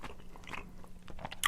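Close, crunchy bites and chewing on spicy Korean rice cake (tteok), with several soft mouth sounds over about a second and a half and a sharp bite at the end.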